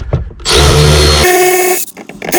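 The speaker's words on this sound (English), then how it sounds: "I'm using this DeWalt gyroscopic screwdriver" A DeWalt gyroscopic screwdriver spins out 10 mm bolts during a car short-shifter install, giving one loud, close motor whir of about a second with shorter handling noises before and after.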